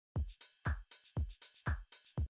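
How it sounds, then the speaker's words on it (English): A dry lo-fi house drum loop with no effects applied: punchy kicks alternate with snappy hits and crisp hi-hats in a steady, quick groove, fairly quiet and alone. "So here's what the drums sound like with nothing on them."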